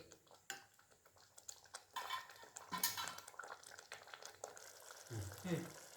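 A spoon stirs a pot of paneer butter masala seasoned with garam masala over a medium flame, giving soft scraping and clinking against the metal in a close, irregular series, with louder scrapes near the end.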